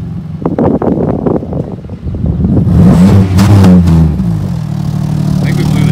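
A Pontiac Grand Prix GT with blown rear shocks and a fallen-off mud flap revs loud and close, the engine note rising and holding as it drops from neutral into drive, with wind buffeting and people talking over it.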